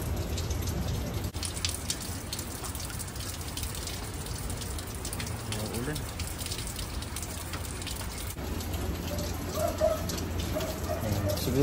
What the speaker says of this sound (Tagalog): Tatry sana natin dito sa labas kaya lang umuulan.